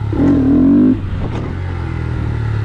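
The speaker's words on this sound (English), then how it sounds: "We're revving it up, we're dropping the clutch." A Honda Grom motorcycle revs hard for just under a second with a rising engine whine, then drops to a rough, lumpy idle as the clutch is released.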